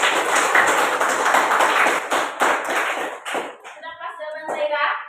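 Classroom children break into loud, steady applause with many hands clapping together close by, fading out after a few seconds while kids' voices chatter underneath.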